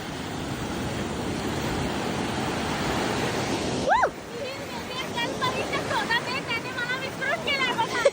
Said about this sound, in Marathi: लाटा बघा कसल्या मोठ्या आहेत